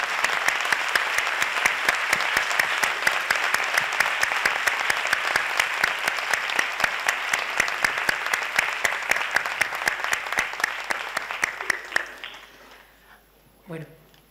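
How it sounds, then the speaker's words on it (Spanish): A conference audience applauds, with loud, sustained clapping and sharp individual claps standing out, then tapering off near the end as a voice briefly speaks. "un aplauso para usted"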